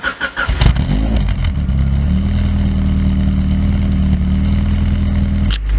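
A 1990 Honda Prelude with a 2.5-inch Pacesetter exhaust cold-starts close by: a brief cranking burst, then the engine catches and settles into a loud, steady, rumbling fast idle with no talking.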